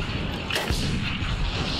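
A tank cannon fires in the video game World War Heroes 2, giving one heavy, booming blast midway through, set within constant loud battle noise.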